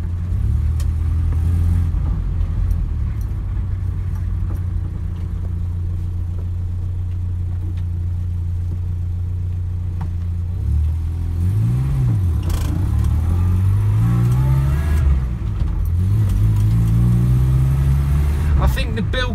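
A Morris Minor 1000 drives along at speed, its engine a steady low rumble heard from inside the cabin that shifts pitch as the car changes gear partway through, with road noise underneath.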